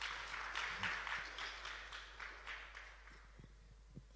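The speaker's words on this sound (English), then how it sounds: "I think a round of applause for this great innovator." Audience applause in a conference hall for a youth energy innovator at a sustainability event, a steady patter of clapping that fades over a few seconds with scattered footsteps and faint voices.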